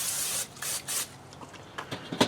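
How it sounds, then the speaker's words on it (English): Short hissing bursts of cooking oil sprayed onto a Fornetto Basso smoker grill, several quick pulses with small pauses, fairly quiet and close with no talking. "Just going to do a quick spray with some oil here to make sure nothing sticks."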